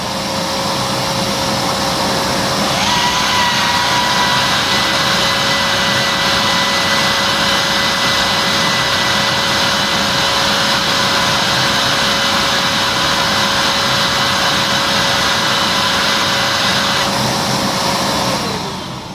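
A turbocharged old Volta F1 vacuum cleaner running continuously at full power for the canister-end airflow test, a loud steady roaring whine with a high tonal pitch that rises partway in and holds, with no talk.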